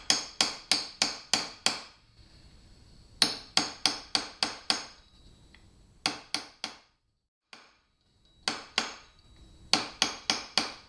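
A hammer strikes a punch against the washer on a Suzuki GS550 motorcycle during starter and clutch removal, with sharp metallic blows in quick bursts of four to six, separated by short pauses and a longer gap near the middle.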